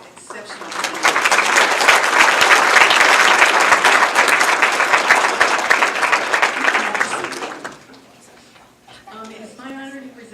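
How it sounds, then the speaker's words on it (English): An audience applauds at the 2024 Ashtabula Touchdown Club banquet and Hall of Fame induction, with loud, sustained clapping swelling after a second and lasting about six seconds before fading; a voice then speaks over the quiet room. "A round of applause for these exceptional candidates."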